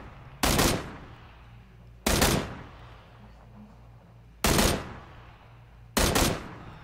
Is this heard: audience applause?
no